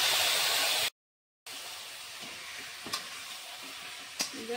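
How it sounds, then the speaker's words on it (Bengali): Marinated mutton hits a pan of browned onions for a wedding-style mutton curry, giving a steady close sizzle and frying hiss, broken by a brief silent gap and a few stirring clatters. "এবার আমি তাতে আগে থেকে মেরিনেট করা মাটনটা দিয়ে দিচ্ছি।"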